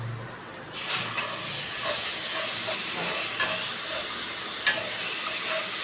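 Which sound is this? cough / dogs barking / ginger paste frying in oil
ginger paste frying in oil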